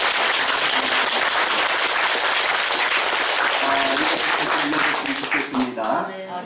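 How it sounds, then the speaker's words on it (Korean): A church congregation applauding, dense and loud clapping from many hands throughout that thins into scattered claps near the end, with voices starting to come through at the close. "감사의 박수 한번 올려주세요."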